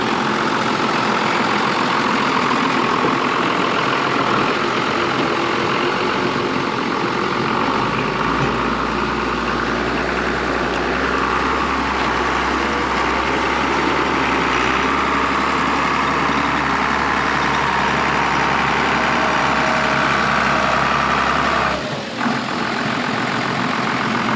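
Tractor engine started and running in gear, a continuous heavy low rumble with a deep idle throb, close and steady, with no talking over it.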